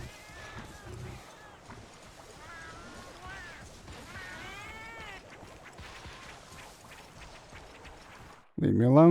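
Cats in the PSP game Monster Hunter Freedom meowing in short, repeated, rising cries scattered over a busy game soundscape, before a louder burst at the end.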